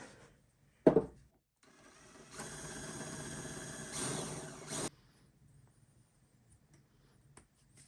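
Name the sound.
drill countersinking a hole for a screw head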